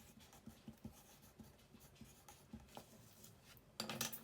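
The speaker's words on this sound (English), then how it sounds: "I'm going to write my name" A pen scratches faintly across a handmade Mother's Day card in short, irregular strokes, soft and close, with a brief louder rustle near the end.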